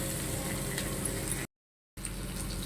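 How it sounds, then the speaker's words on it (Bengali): Paneer fries in a pan with a soft, steady sizzle that breaks off briefly into silence, then resumes at the same low level. "ভালো মতো করে ভেজে নেব।"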